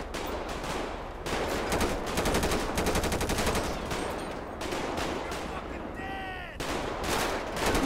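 Rapid bursts of automatic gunfire from a street shootout in GTA V crackle in repeated volleys, loud and close, with a brief pause and a short higher-pitched sound between bursts.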